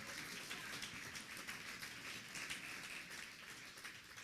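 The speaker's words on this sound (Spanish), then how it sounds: "Give a strong applause to the Lord." A church congregation claps together in steady, even applause. The sound is faint and distant, with no voices over it.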